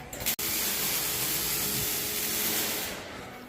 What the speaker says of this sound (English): We're using our ceramic 3-in-1 spray wax stuff, and yeah, just spraying on and wiping it off.